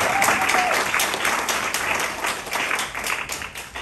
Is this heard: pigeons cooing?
no